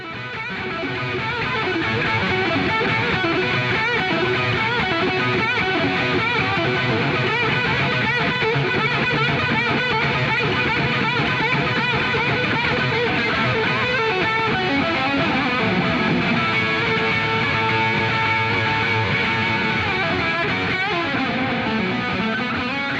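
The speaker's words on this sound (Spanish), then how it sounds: "tenemos a la guitarra eléctrica nuevamente y suena así." An electric guitar plays a continuous, dense, distorted passage with effects, loud and sustained throughout, with no voices.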